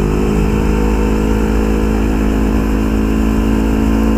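Yamaha MT-25 motorcycle engine, 2016 model, on a test ride, holding a loud, steady mid-pitched drone with no pause throughout.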